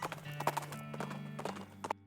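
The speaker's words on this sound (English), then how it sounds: "I forgot there was a drunk horse here" Horse hooves clip-clop in a quick, steady rhythm in the game West of Loathing, ending in a short whinny, all faint and close under a soft game-music background.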